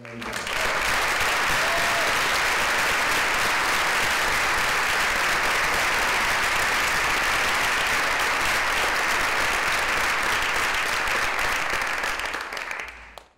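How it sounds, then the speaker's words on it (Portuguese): An audience at a debate on racism applauds a guest speaker, a dense, loud wall of clapping that starts at once, holds steady for about twelve seconds, then fades. "Uma salva de palmas para a Jamila Ribeiro."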